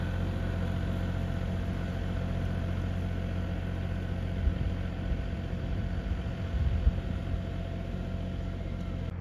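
A tractor engine runs steadily in a dove field during herbicide spraying, a constant low diesel drone heard from a moderate distance with a few faint knocks.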